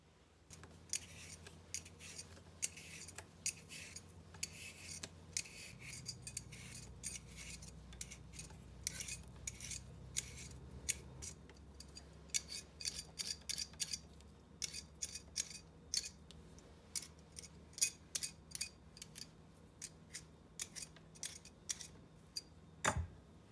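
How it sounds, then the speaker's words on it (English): A handheld potato peeler scrapes along a single potato, producing a long run of quick, crisp rasping strokes at close range, fairly quiet and steady throughout with no voices. "I would use a potato peeler. That way you barely get your peeling off and you don't waste any of your potato"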